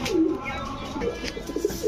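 Dauka golla pigeons coo in repeated low, throaty pulses close by at a pigeon market, with faint chatter from people in the background.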